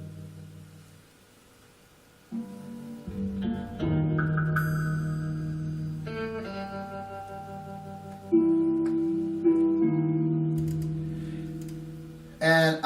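Slow guitar notes finger-picked in a banjo picking style, plucked one at a time and left ringing, sounding close and clean with no voices.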